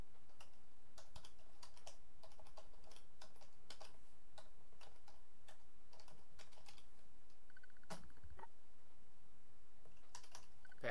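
Computer keyboard being typed on to enter login credentials, a steady run of quick, light key clicks in irregular bursts, close by and fairly faint with no talking.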